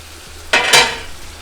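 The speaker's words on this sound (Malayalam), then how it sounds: "നന്നായിട്ട് മിക്സ് ചെയ്ത് കൊടുക്കുക" A spoon scrapes through chicken curry in a pan, giving two quick, close stirring swishes that fade into a soft sizzle against a quiet, low hum.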